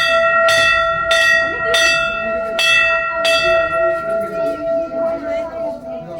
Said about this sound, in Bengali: বিশাল আওয়াজ, হ্যাঁ ঘন্টাটা।